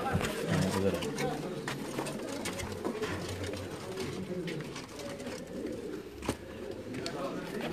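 Kasuri pigeons coo in a large pigeon setup, soft repeated low coos mixed with scattered clicks and wingy rustles, with someone talking over them.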